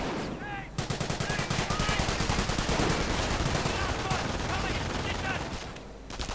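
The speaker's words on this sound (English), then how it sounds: "And the MG42 opening up, forcing the Bren gunners away with a hurry and a scurry." An MG42 machine gun rattles off long bursts of automatic fire in a World War II video game, sustained and loud through most of the stretch alongside other gunfire, with faint narration mixed in.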